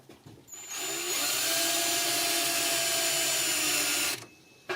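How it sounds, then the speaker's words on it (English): A sawzall reciprocating saw cuts during a camper bus build, a loud, harsh, buzzing whine that runs continuously for about three seconds up close before stopping abruptly. "The good old trusty sawzall."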